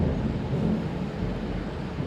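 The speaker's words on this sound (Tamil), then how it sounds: "இங்கே வேற மின்னல் வெட்டுது, இடி இடிக்குது" Thunder rumbling in a video game during a lightning storm, a broad continuous low roar that fills the whole stretch at moderate loudness with no voices over it.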